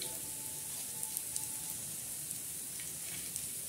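Whole spices sizzling in hot oil while a masala is prepared for stuffed eggplant, a steady, quiet crackling hiss with small pops, without speech.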